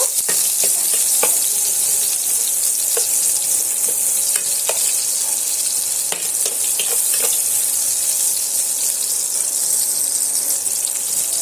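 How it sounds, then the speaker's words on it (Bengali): Chopped onions fry in hot oil, giving a loud, continuous sizzle with occasional sharp crackles and faint stirring clicks from the pan throughout. "সে পেঁয়াজটা আমি তেলের মধ্যে দিয়ে দিলাম দিয়ে আমি পেঁয়াজটাও লাল লাল করে একটু ভাজা করে নেব"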